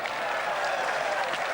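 An audience at a petanque match in Marseille breaks into dense, continuous applause, loud and even throughout with no pauses.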